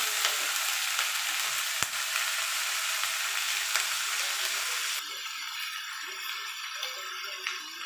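Boiled cauliflower stems frying in a pan, a steady broadband sizzle running throughout with faint stirring scrapes, the hiss easing slightly partway through. No voices.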